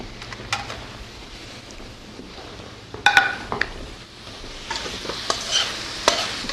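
Cooked collard greens with onions and garlic are scraped and spooned out of a pan onto a plate, with light sizzling, a few sharp metallic clinks of a utensil, and scraping bursts near the middle and end.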